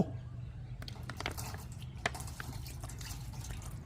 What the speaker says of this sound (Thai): เอาส่วนหนังลงไปแช่น้ำส้มสายชู15 นาทีครับ